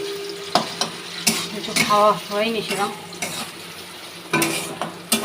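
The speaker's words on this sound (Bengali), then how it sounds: "এখন আলু ভাজা দিচ্ছি" Potatoes fry in a pan at home, a steady sizzle broken by sharp scraping stirs and clinks, while someone speaks over the cooking.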